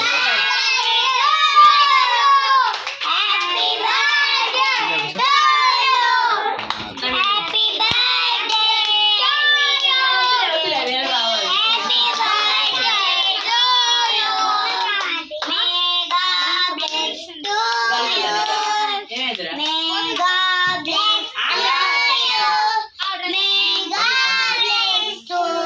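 Children and adults at a birthday celebration sing together with clapping, a lively overlapping chorus of high voices that continues steadily, with scattered shouts mixed in.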